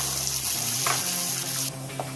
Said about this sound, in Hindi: तो ये अब हम इसमें ऐड करेंगे और इसे अच्छे से भूनेंगे।